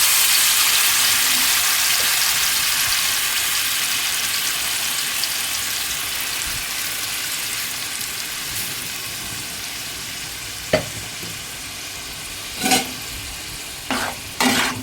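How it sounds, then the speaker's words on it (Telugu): Ground masala paste fries in about four tablespoons of hot oil for a fish curry, giving a steady, continuous sizzle throughout, with a few sharp utensil clinks near the end. "ఇప్పుడు మనం నూరి పెట్టుకున్న మసాలా వేసేసుకోవాలి."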